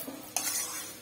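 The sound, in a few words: stirring grated taro with spices in pan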